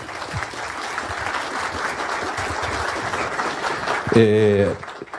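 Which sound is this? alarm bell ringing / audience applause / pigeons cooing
audience applause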